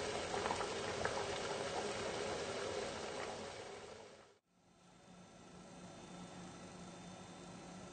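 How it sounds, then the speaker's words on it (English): A pot of lamb jalfrezi sauce bubbles at a gentle simmer, a soft, steady hiss and burble up close that cuts out briefly and resumes more quietly, with no talking. "So just a gentle simmer for an hour."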